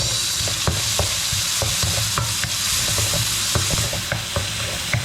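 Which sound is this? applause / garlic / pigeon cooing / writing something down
garlic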